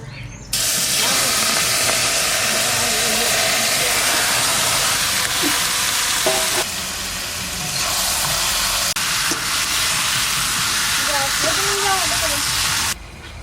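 Meat goes into a hot pan for a desi rooster curry and sets off a loud, continuous sizzle and hiss that dips briefly midway. Faint voices come through underneath.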